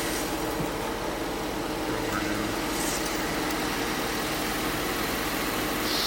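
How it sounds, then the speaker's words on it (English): A steady, low car engine idle, in park, while a transmission is being replaced, rumbles continuously at moderate volume, an even mechanical hum with no change in pace. "Engine idling"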